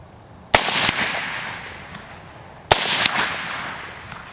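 Two sharp rifle shots from a homestead rifle, fired outdoors in wet weather, spaced about two seconds apart, each a loud close crack with a short echoing tail and no talking.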